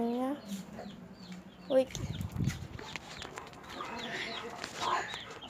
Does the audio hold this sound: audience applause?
no